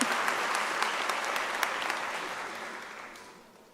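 A graduation ceremony audience claps hands in a hall, a dense burst of applause that fades away toward the end.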